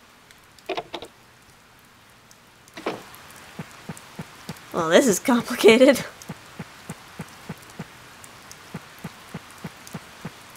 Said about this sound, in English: I have nothing to do when it rains.